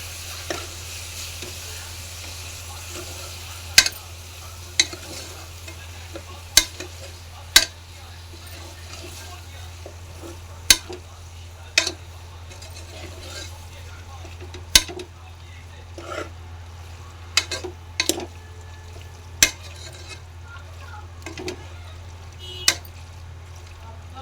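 Meat for Telangana-style boti curry is stirred in a pan with a steady low sizzle underneath, while a spoon scrapes and clacks against the metal in sharp, irregular strikes every second or two.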